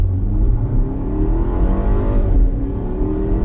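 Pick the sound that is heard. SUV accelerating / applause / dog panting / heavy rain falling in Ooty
SUV accelerating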